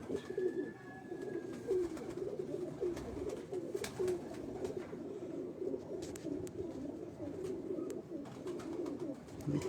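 Pigeons coo steadily and continuously in a loft in Dharampura, Lahore, with a low, rolling murmur that overlaps into a dense chorus, close and moderately loud, with a few faint chirps and clicks scattered through it.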